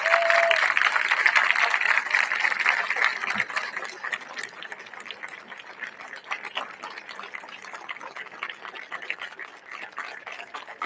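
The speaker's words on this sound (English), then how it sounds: "Please join us in a round of applause" Steady outdoor applause from a crowd at a Buffalo Soldier wreath-laying ceremony and cadet review, honoring a woman receiving flowers: a continuous, even wash of clapping that holds for about eleven seconds without fading.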